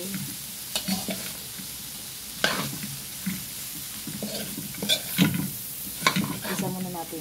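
Winged beans sizzle in a pan and are stirred and tossed, with scraping and clattering at irregular moments over a constant frying hiss and no talking.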